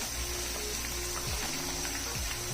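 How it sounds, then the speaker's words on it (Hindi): Potato slices fry in hot oil with a steady, even sizzle and soft bubbling. A spoon stirs the pan now and then with faint scrapes, and nobody speaks. "अच्छी तरह अब इसको मैं हिला लूंगी ताकि चारों साइडों से ये अच्छी तरह ये फ्राई हो जाए।"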